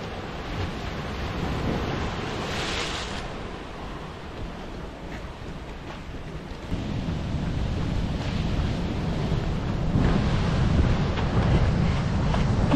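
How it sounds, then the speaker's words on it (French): Ocean waves break on a shore in Lanzarote, making a continuous wash of surf that swells louder toward the end, with wind buffeting the microphone and no talking. "Wow, les vagues."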